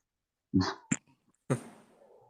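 A close, sharp sneeze in quick bursts, followed by a short breathy exhale, then quiet.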